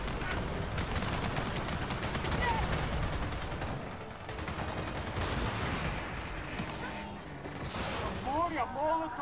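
Three-round burst rifle fire in Gears of War 4 co-op combat, dense repeated shots cracking through a busy firefight with explosions and other weapons, while players talk over the action.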